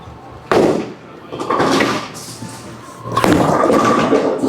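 A Raptor Rush bowling ball crashes into the pins for a strike with a loud, clattering impact, followed by scattering rattles and a second burst of pin noise in a noisy alley.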